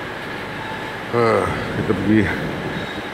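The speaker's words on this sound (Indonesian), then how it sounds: "Okey, kereta api sampai." A train pulls into a station on a Reading to Paddington rail journey, its steady low rumble and hum filling the background while a person briefly speaks over it.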